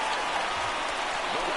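A stadium crowd in the MLB The Show 19 baseball game gives a broad, continuous roar of cheering and clapping with the bases loaded, a steady wash of noise with a commentator's voice running over it.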